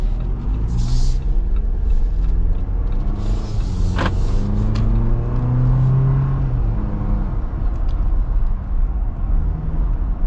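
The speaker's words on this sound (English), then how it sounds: "So you get quite a bit of noise from the tires." Steady tire and road roar fills the cabin of a 2025 Jeep Wrangler Rubicon soft top while driving in traffic, a continuous loud low rumble with engine drone and brief passing-vehicle swells, no talking.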